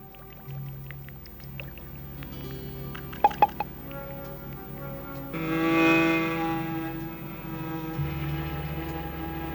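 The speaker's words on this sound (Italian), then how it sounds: "questa è acqua." Cartoon water drips in a quick cluster of bright, plinking drops over a low steady hum, followed by a swelling watery wash, all fairly faint with no speech.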